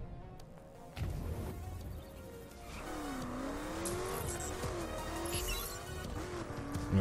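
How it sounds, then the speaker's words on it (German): A tuned rally car in The Crew, driving in Las Vegas, starts with a quiet lull, then its engine climbs in a steady, fairly loud drone with rising and falling pitch and some tyre noise. "Mal unser Rallye-Auto ein bisschen ausprobieren."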